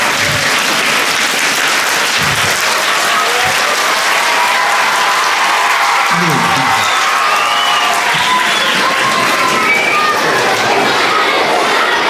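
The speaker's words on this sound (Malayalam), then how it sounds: "അതുകൊണ്ട് അദ്ദേഹത്തിന് നിങ്ങളൊരു നിറഞ്ഞ കയ്യടി എല്ലാവരും എഴുന്നേറ്റ് നിന്നുകൊണ്ട് കയ്യടി പ്ലീസ്" A school audience rises for a standing ovation at a Rotary Nation Builder teaching-award ceremony, sustained loud clapping from a large crowd filling the whole stretch with faint voices mixed in.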